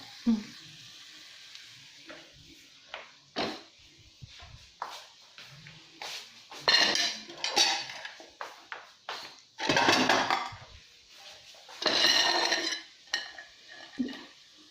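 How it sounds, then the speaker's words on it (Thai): Noodles stir-frying in a pan, soft sizzling under intermittent stirring and clattering scrapes of a utensil against the pan, in bursts with quiet gaps between. "นี่ใส่เส้นเข้าไปแล้วก็คน"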